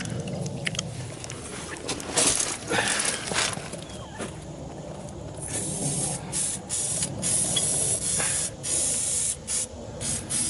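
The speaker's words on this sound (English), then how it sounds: "And then can you spray the bolts that are on the brackets too?" Aerosol WD-40 spray on rear sway bar bracket bolts, a series of hissing bursts of varying length, fairly close, with brief pauses between sprays and faint background noise.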